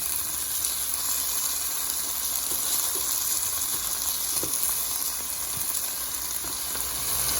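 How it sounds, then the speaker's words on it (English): Quinoa and chicken sizzle steadily in a hot pan as they are stirred, a dense, continuous frying hiss with faint scrapes of the stirring throughout, no voices. "I'm gonna stir these around a little bit and spread it in the pan."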